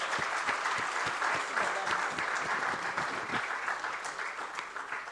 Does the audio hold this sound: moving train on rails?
no